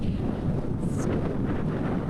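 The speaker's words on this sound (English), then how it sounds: "there's one of the big gusts" A strong gust of wind from Hurricane Fiona in Port aux Basques, Newfoundland, roars and buffets the microphone in a steady, low rumble throughout, with a brief whistling rise partway through.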